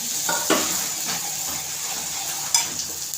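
Raw vegetables being sautéed and stirred in a pan, with a steady frying sizzle and occasional scrapes and clinks of the spoon against the pan.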